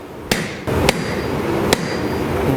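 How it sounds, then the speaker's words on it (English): Hammer blows forging Damascus steel for a Bowie knife guard: three sharp, loud metallic strikes spaced irregularly over a steady background hum, with no talking. "Right, round side of the hammer."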